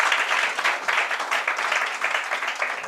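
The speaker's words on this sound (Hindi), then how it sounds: "इनके लिए एक जोरदार ताली से स्वागत किया जाए" A crowd at a NEET topper talk gives a hearty round of clapping in welcome, dense and continuous, with individual claps pulsing through the sustained roar.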